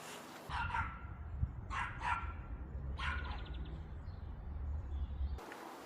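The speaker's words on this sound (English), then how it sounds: "I think every dog in London is here today." Several dogs bark in scattered bursts at moderate distance over a low outdoor rumble in London, with a few separate yaps spread across the span.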